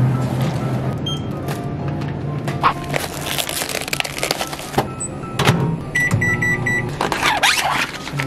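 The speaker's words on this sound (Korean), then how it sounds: "전자레인지 20초." A microwave oven heating convenience-store food for about twenty seconds, its steady close hum running throughout, broken by clicks, rustles and a few electronic beeps near the end, with no talk.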